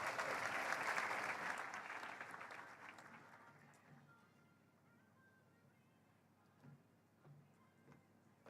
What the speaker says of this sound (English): Let's give Professor a warm round of applause.